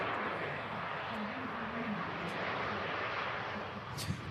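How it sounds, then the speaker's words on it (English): A Ryanair Airbus A320 arriving from Zagreb touches down at Manchester Airport, a steady broad engine and wind roar holding at moderate loudness throughout with no pauses. "Louder A320 touching down from Zagreb. This is a Ryanair flight,"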